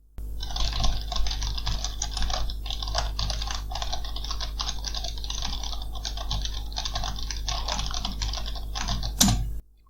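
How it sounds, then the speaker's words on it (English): Code being typed on a computer keyboard during a programming tutorial, a steady stream of close, crisp key clicks for the whole stretch, with one slightly louder clack near the end. "Okay, so we are going to type the code."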